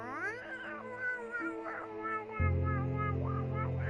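A human voice imitates two wildcats meowing and fighting, with drawn-out wavering yowls and rising and falling caterwauls performed alone, fairly close and clear.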